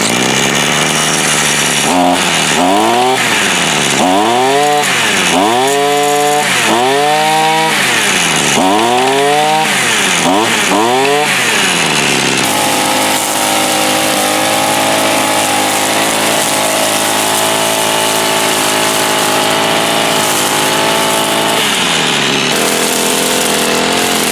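A Zenoah GZ23N small petrol engine on a string trimmer, loud and close, revving in repeated rising bursts before settling into a steady, buzzing high idle.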